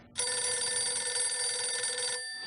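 A telephone rings on a TV call-in show inside the game GTA: The Ballad of Gay Tony, a loud steady electronic bell trill lasting about two seconds, then cutting off.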